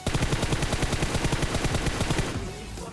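Rapid automatic gunfire in the PUBG Mobile battle-royale game, a loud, close, continuous burst of evenly spaced shots that stops abruptly near the end.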